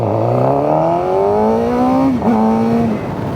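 A Suzuki GSX-R600 supersport motorcycle rides on a Melbourne street, its engine rising in pitch as it revs through the gears, with a short dip at a shift before the loud, close tone settles.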